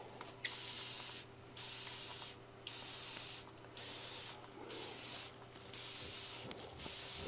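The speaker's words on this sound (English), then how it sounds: "I'm just going to take a spritzer bottle now" A spray bottle hisses in a series of about six short bursts, evenly spaced with brief pauses between them, close by.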